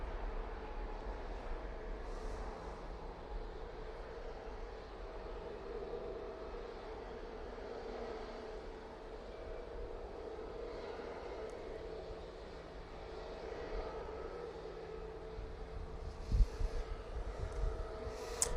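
A passenger jet taking off from Manchester Airport, bound for Faro, gives a distant, faint, steady engine rumble that swells slightly toward the end.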